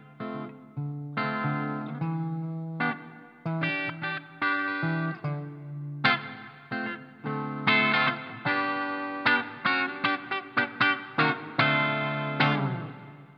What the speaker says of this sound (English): Very evocative and vibey reverb there.